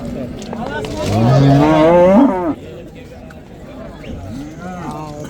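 A cow lets out one loud, drawn-out moo close by, followed by people talking in a busy outdoor livestock market.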